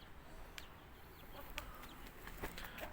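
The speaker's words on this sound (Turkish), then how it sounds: "Burada da tavuklar var." Hens cluck softly in a yard, with scattered short calls and a few sharper chirps over a steady outdoor background.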